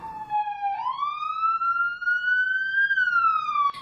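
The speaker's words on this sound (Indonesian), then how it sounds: "Suara sirine mobil ambulans berdatangan satu persatu" A loud ambulance siren wails steadily, its pitch dipping then rising and holding in a long sweeping tone, close by with no other sounds.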